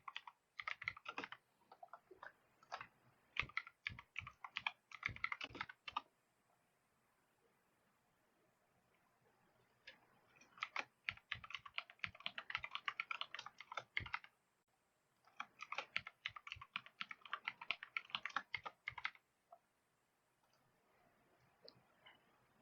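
Keys clatter on a computer keyboard as a password is typed, close and quiet, in three rapid bursts of clicks separated by pauses of near silence.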